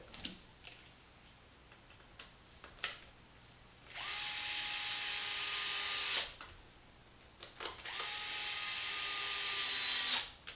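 A power drill driving screws out of an XMAXX RC truck front differential, two sustained whirring bursts of about two seconds each, separated by small clicks and taps of handling the parts.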